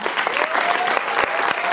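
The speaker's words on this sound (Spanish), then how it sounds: "les voy a pedir algunos aplausos a las compañeros del Ya Basta" Dense, steady applause from a crowd at a political talk, many hands clapping continuously throughout with no pauses.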